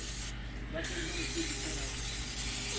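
Butter-flavor Pam cooking spray hisses onto an old boot in a short steady burst near the start, over a constant low outdoor hum.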